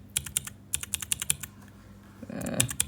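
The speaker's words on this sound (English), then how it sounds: "Oh man, this is a clicky sound." A clicky keycap on a fidget keychain is pressed over and over, giving sharp, close clicks in quick bursts, with a rustle of handling near the end.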